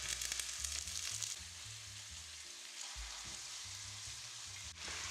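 Steady hissing sizzle of chicken and garlic frying in a hot pan, continuous and close, with faint clinks and stirring noises.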